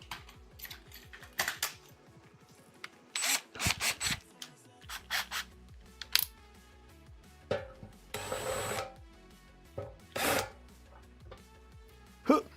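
Intermittent harsh metallic grinding and rasping bursts as a drill bit deburrs metal in short passes, with clicks and clatter between, fairly close.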